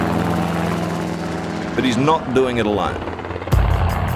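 A mustering helicopter drones steadily with a throbbing rotor and engine hum over vast cattle country, staying loud and constant beneath a voice speaking.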